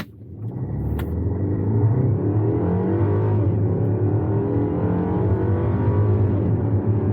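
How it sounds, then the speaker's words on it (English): A BMW X1 accelerates flat out from a standstill to 60 mph, heard from inside as a loud, steady engine roar that swells and climbs in pitch without pause, with no talking over it. "And this is the second one, 0-60, and just smash the gas."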